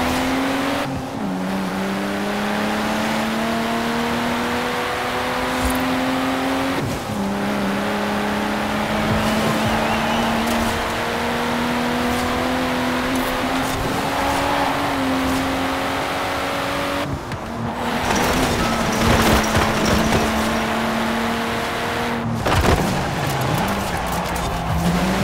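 Race cars in Forza Horizon 4 speed through the Glen Rannoch Hillside Sprint road race on Xbox One X, with a loud, continuous engine drone rising through gear shifts and occasional tire squeal.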